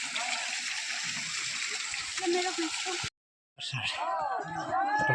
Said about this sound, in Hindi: झरना कल चल रहा है, ये प्राकृतिक है।